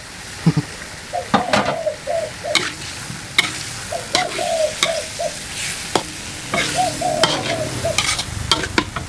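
Large eel pieces stir-fried in a hot, dry pan for a spicy Thai dish with holy basil: steady sizzling and frying hiss with repeated scraping and clanking of a spatula against the metal pan, close up.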